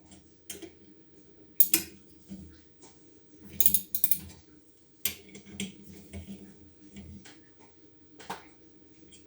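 Cylinder head bolts on an MBK 51 moped are tightened in a crisscross pattern with a ratcheting wrench, giving sparse, quiet clicks and short ratchet bursts with pauses between, in a calm workshop with no talking.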